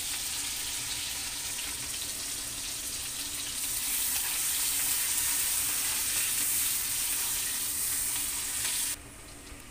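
Bitter gourd (karela) fries in a pan over a low flame, a steady close hiss of sizzling oil that swells midway and drops off abruptly near the end, with no voices.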